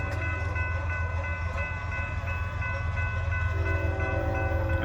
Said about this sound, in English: And here comes the train, southbound.